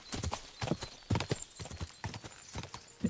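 Horse hooves clip-clop in Kingdom Come Deliverance 2, a steady close run of sharp hoof strikes at a walking rhythm, loud and alone.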